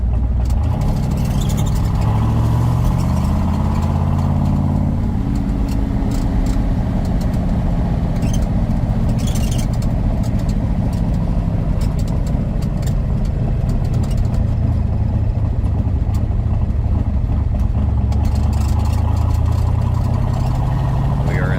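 A 1966 Chevrolet Corvette engine runs steadily and loud throughout, a continuous low rumble with little variation and no talk over it.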